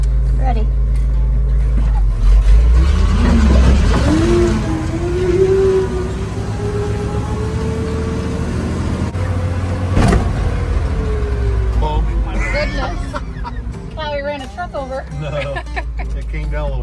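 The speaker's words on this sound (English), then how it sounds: "means the hydraulic pump's running. So what I'm going to do is I'm going to run the bed up." Hydraulic pump on an S-10 truck drones steadily as the dump bed runs up and down, with a rising and falling mechanical whine, a sharp clunk partway through and people talking over it.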